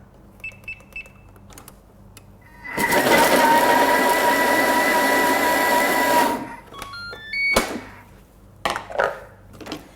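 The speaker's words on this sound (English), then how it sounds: "we're just going to chop these for 3 seconds on speed 6" A Thermomix chops breadcrumbs, onion, garlic and herbs on speed 6: a loud, whirring motor burst lasts a few seconds, framed by quiet clicks, knocks and electronic beeps before and after.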